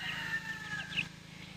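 Meat-bird chickens in a garden grow-out pen give a few soft clucks and brief chirps at close range over a low steady background hum.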